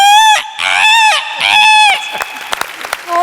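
A performer on a Malayalam comedy stage show imitates a chicken with loud, drawn-out squawking cackles in two long bursts close to the microphone, followed by scattered clapping and a short final squawk.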